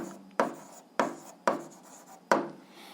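A pen writes out an algebra solution, making four distinct scratchy strokes on paper at a steady pace, each one a sharp start that fades quickly, close and fairly quiet.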